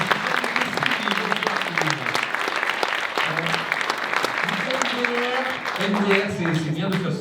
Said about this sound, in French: Je vous demande d'accueillir et d'applaudir Kevin Blaise.